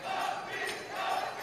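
Swiss fans in the stands at a World Men's Curling Championship match cheer after a Swiss win, a brief, sustained swell of crowd noise that rises and falls.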